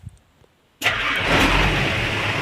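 A car engine cranks and catches after a brief quiet moment, then runs loud and close with a rising rev, in a workshop setting where an air compressor's pressure is being adjusted.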